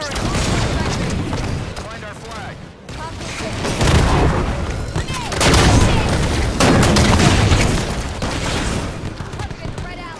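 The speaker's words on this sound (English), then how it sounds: "Got an incinerator firing." Heavy weapon fire and booming blasts from an Incinerator cannon in Halo 5 Guardians, loud and rolling, with fuller explosive swells partway through and a voice talking over the battle noise.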